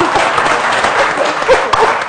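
An audience applauds after a panel discussion, giving a brief, dense burst of clapping from many hands in a room, close and loud for about two seconds.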